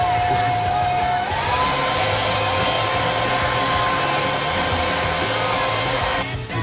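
A handheld hair dryer blows on a man's hair at the roots while styling a mushroom cut. It gives a loud, steady, close whir with a thin tonal whine that runs without a break.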